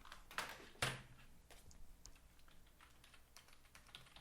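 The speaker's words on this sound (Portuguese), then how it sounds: "Vou pegar meu" Quiet clicking of keys on a computer keyboard, with a couple of sharper strokes early on and then a light, irregular patter of typing in a calm room.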